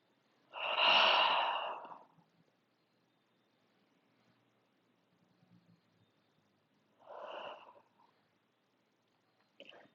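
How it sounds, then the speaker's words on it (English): Slow, deep breaths during a yoga session: a long audible exhale near the start, a softer breath later, and a faint one at the end, each separated by quiet pauses. "continue breathing however you need to. It could be in and out through your nose or your mouth."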